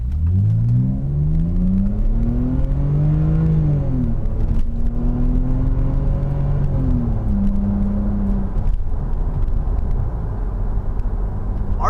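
A BMW E60 5 Series engine in sport mode revs up and falls back repeatedly, heard loud and close from inside the car with rising and dropping pitch and no talking.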